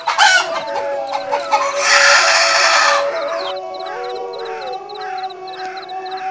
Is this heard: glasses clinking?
no